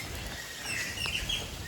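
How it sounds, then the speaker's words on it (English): Birds chirp in a lush, jungle-like spot in Mexico during rain, with a few thin, high tweets popping out over a soft hiss of rainfall and distant surf, faint and brief. "Oh, there are so many beautiful birds here."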